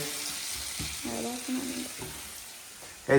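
Steady sizzling of crab curry frying in a pan, with occasional stirring scrapes and a sharp clatter at the end.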